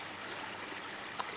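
A creek flowing outdoors, a steady broadband rush and trickle of water running continuously without pause.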